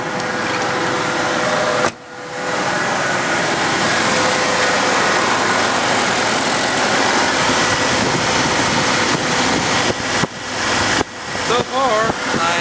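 A Ford F-150 engine idles steadily right after a thermostat replacement, a continuous broadband hum and whir running throughout with a brief dip near the start and a voice briefly heard near the end.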